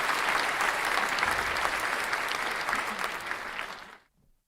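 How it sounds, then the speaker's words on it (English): A lecture class bursts into sustained applause, dense clapping at steady volume for about four seconds before it stops abruptly into silence. "you deserve to give yourself a round of applause"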